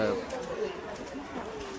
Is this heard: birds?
yes